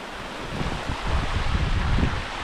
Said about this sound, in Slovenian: Slapovi na Vroči reki.